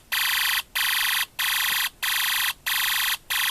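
UM3561 sound-effect chip sounding its alarm tone: a shrill, warbling electronic siren pulsed in six even bursts with short gaps, clean and steady with nothing else audible.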